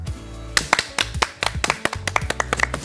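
Scattered hand claps from a small studio audience of a competition show ring out as distinct, sharp, irregular smacks, starting sparse and growing denser, fairly close and loud.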